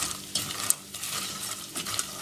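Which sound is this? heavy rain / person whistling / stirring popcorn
stirring popcorn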